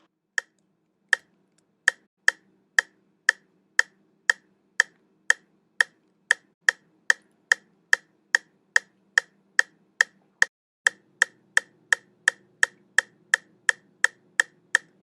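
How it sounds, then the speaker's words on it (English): Sharp metronome clicks repeat steadily, starting slow and then speeding up to a faster even pulse, with a faint hum underneath. "That sound you just heard was a metronome"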